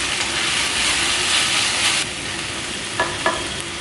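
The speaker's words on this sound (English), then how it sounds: "Now we let this mixture fry a little bit" A biryani spice mixture frying in a pan before mutton is added: loud, continuous close sizzling with stirring scrapes, easing slightly partway through, with a couple of brief clicks near the end.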